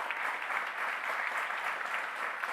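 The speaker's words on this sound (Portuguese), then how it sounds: "Vamos aplaudir a nossa querida cidade de São Paulo." Audience applause at a São Paulo city hall ceremony welcoming new tax auditors, a steady dense wash of many hands clapping that holds evenly for a few seconds with no voices over it.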